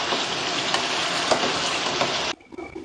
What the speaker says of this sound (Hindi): अब इसके अंदर सूखी मेथी जाएगी। इसे मिक्स करेंगे।